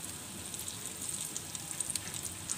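Chicken shami kababs shallow-frying in a pan until light brown: a soft, steady sizzle with small crackles and pops, quiet and continuous, with no talking.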